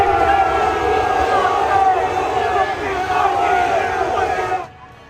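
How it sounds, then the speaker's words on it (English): Ole Miss college football fans booing nonstop at an airport tarmac: a dense, loud, sustained crowd roar of jeers that cuts off abruptly near the end. "he was met by Ole Miss fans that were booing him nonstop"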